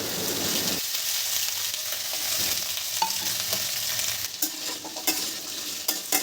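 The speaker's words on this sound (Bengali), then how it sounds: "এবার কেটে রাখা সবজিগুলো এর মধ্যে দিয়ে দেবো।" Cut vegetables, potato, pumpkin and pointed gourd, sizzle loudly in hot mustard oil with green chillies, a steady broadband frying hiss broken by scrapes and clatters of stirring, close up and with no talking.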